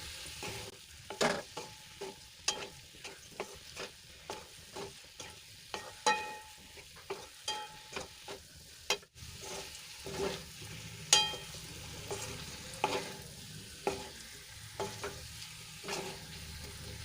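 Sweet potato with coarsely crushed peanuts being stirred and sautéed in a pan for a dry Shivratri sabzi: a run of distinct close spatula scrapes and taps at an irregular pace over a soft, steady sizzle, with no talk.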